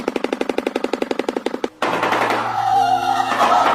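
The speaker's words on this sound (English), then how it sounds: "Here's the first one, the shoebill sound." A shoebill's bill-clattering call, a rapid loud series of hollow, machine-gun-like knocks at close range lasting over a second, followed by a noisy rushing background.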